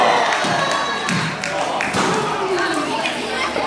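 In a street fight at an indoor wrestling show, a wrestler lands several dull thudding strikes to an opponent's ribs. A noisy crowd roars and chatters throughout, and voices carry over the hits.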